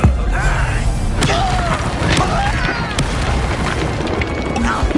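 Confringo fire-blast spell bursting in Hogwarts Legacy combat, loud booming impacts with sharp cracks over a dense battle din, mixed with magical whooshes and in-game voices.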